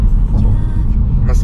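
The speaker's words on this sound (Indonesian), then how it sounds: "meskipun ada raungan ban yang masuk ke dalam, karena karakternya sih gue rasa emang seperti ini ya Ford Focus ya, raungan ban tuh lebih masuk ke dalam" Tire roar inside a Ford Focus 1500cc Turbo cruising on the road, a loud steady low rumble filling the cabin, with someone talking over it.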